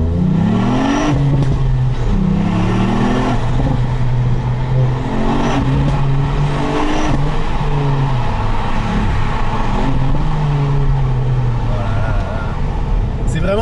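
A 2018 Ford Fiesta ST with a 200-horsepower engine revs and pulls hard, its tone climbing and dropping through repeated rises in pitch, loud and close from inside the car, steady and continuous throughout.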